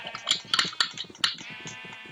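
Sheep in the Minecraft video game bleat in several short, bright, nasal cries in quick succession, close and loud.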